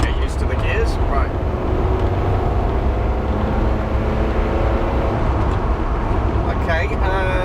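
A Ferrari driven on the road with a puff of smoke from its exhaust, its engine a loud, steady roar with rushing road noise, rising and dropping through a gear change.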